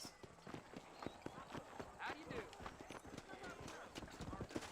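Horse hooves clip-clop in the Red Dead Redemption video game, a quick, regular run of hoofbeats that continues throughout at a quiet level, with a voice faintly present.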